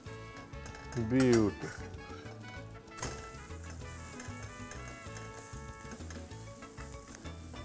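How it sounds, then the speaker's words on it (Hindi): A tortilla roti frying in butter on a pan, a steady close sizzle throughout, with a brief clink of a utensil and someone speaking briefly early on, and music playing underneath. "अब ये रोटी दूसरी तरफ से पका दी।"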